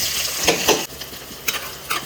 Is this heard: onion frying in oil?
yes